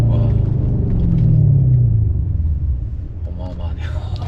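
A Mercedes S63 AMG with a 585-horsepower engine and four-wheel drive, in sport mode, gives a deep rising rumble under hard acceleration, loud and close, with a voice talking over it.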